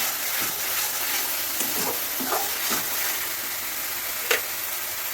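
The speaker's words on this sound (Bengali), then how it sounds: "এবার সুন্দর করে টমেটোটা কষিয়ে নেব" Tomato paste frying with onion paste and spices in a pan for a potato and sarpunti fish curry, giving a steady close sizzle broken by a few scraping stir strokes and one sharp clink near the end.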